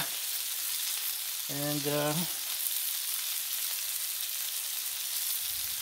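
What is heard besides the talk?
meatloaf cooking in bacon fat on Blackstone griddle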